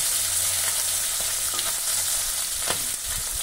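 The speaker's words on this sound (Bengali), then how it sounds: "আগে কড়া করে ভাজবে।" Hilsa fish tail fries crisp in hot oil in a home kitchen, giving a dense, steady sizzle that stays even and close throughout, with no talking.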